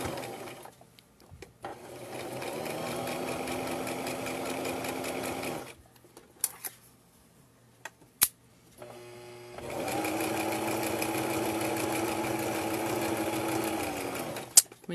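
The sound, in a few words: sewing machine stitching an envelope pillow case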